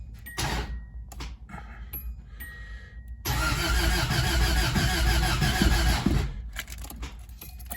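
A car starter, recently replaced, cranks the engine loudly for about three seconds, a fast rough churning that sounds faulty, with quieter rustling and small clicks before and after.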